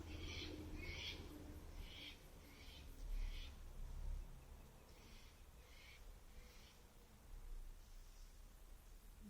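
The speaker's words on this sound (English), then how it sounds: "A bird is mocking me too." A bird calls at a distance in short repeated hoot-like notes, a few in a row and then a pause, then more, faint over a steady outdoor hiss with no talking.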